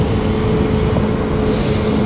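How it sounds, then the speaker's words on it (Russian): A motorboat below a parasailer moves away across open water, its steady engine drone heard from above through loud continuous wind buffeting on the microphone. "Под нами катер уходит в сторону."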